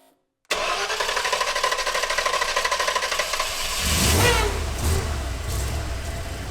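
An off-road vehicle engine cranks and catches after a moment of silence, settling into a loud, busy idle with a rhythmic clatter, then revs briefly before falling back to a rough, steady run.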